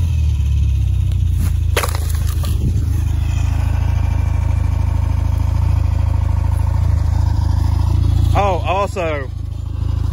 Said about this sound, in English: it sounds like your harmonic balancer is kind of kissing the radiator